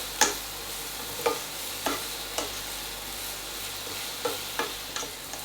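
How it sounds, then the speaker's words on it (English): Onions softening in a pan for a slow cooker risotto, heard as a low steady sizzle with several sharp stirring scrapes spaced through, close and fairly quiet, with no talking. "So my onions are nicely softening now"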